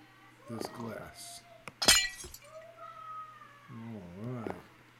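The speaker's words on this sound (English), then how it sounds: "Left click to break this glass" A pane of glass shatters with one sharp, bright crash in a video game. A voice talks just before and after the break.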